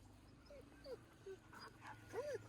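Small whimpers and yips from a pet dog outdoors at a home orchard, several brief soft whines spread across the moment over steady background noise, with a person talking nearby.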